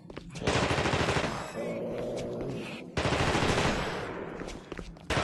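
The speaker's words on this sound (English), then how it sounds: "That guy is shooting at him." Bursts of automatic gunfire from the video game The Thing rattle loudly in two long sustained volleys, dense and rapid, with a brief dip between them.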